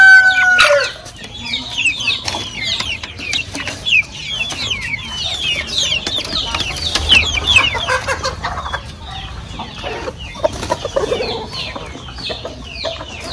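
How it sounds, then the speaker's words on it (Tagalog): Chickens, including Rhode Island and Orpington breeds, cluck and squawk steadily close by on a poultry farm, with many birds calling over one another and an occasional crow rising from the flock. "Dito yung ibang manok."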